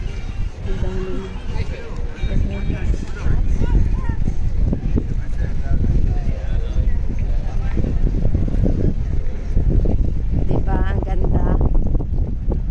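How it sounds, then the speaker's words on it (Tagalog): Heavy wind buffets and roars against the microphone throughout, with people talking and exclaiming under the steady rushing noise. "Ang lakas ng hangin."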